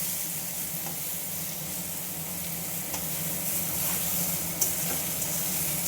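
A paste of ground greens is stirred in a frying pan. It gives a soft, even hiss and sizzle, fairly quiet, with a few faint scrapes and no voices.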